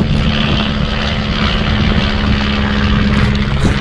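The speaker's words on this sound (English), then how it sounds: "Nice plane overhead." A propeller airplane drones loudly and steadily overhead above a beach in the morning, with a constant engine hum filling the whole stretch.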